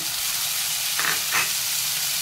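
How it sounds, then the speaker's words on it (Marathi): Onion and finely chopped tomato sauté in a pan for a methi batata bhaji, giving a steady close sizzle with two brief stirring swells about a second apart. "कांदा चांगला परतून झाला की आपल्याला बारीक चिरलेला टोमॅटो घालायचा आहे।"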